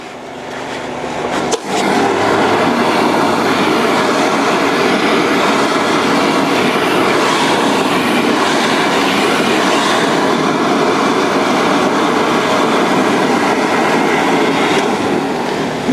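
The twin engines of a trailer-mounted hot and cold water sewer jetter start up after a sharp click and run with a loud, steady roar that fills the rest of the stretch, close by and without speech.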